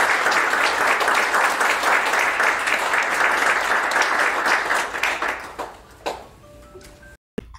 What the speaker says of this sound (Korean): 따뜻하고 뜨거운 박수 부탁드리겠습니다.